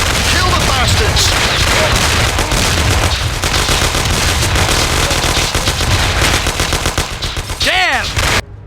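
Heavy, continuous gunfire in a video game mafia shootout, with rapid machine-gun bursts and loud shots filling the scene, and voices shouting through it.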